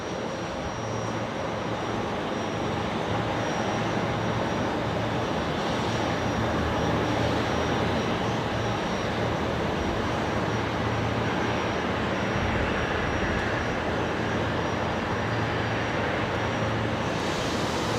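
Jet engines of a QantasLink Embraer 190 arriving at Brisbane Airport, a steady broadband roar that holds at constant loudness throughout, distant and unbroken, with no voices over it.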